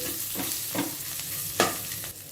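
Bitter gourd pieces fry in a hot pan with onion and a pinch of turmeric, giving a continuous crackling sizzle broken by a few scraping stirs of a spoon, with no voices.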